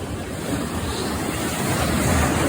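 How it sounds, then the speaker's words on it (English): Ocean waves wash and roar against a rocky shore in Olympic National Park, a continuous loud surf rumble with some wind buffeting the microphone. "But the waves are here."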